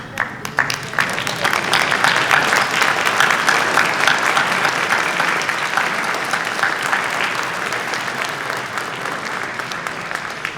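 A luncheon audience at a school alumni hall of fame event applauds warmly, a dense, sustained clapping that holds for about ten seconds before gradually thinning, with faint voices underneath.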